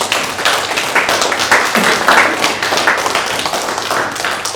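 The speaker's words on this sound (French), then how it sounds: "Sous vos applaudissements, s'il vous plaît" Applause from the audience at a seniors' celebration in Niederstinzel, steady hand clapping that fills the whole stretch at moderate loudness, with a few isolated taps standing out.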